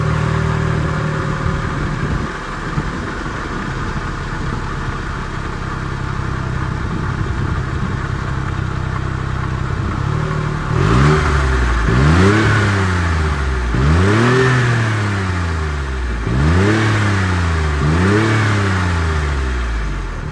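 A Smart Roadster Coupe's small engine idles with a steady close rumble, then is revved repeatedly in four swelling blips that rise and fall back to idle, loud and alone.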